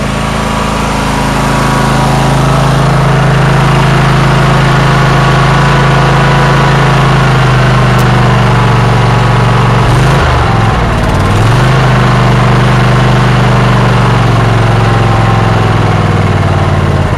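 A Troy Bilt and Massey Ferguson race tractor engine idles steadily after a cold start, a loud, continuous low rumble that dips and wavers briefly near the middle before settling back to a steady idle.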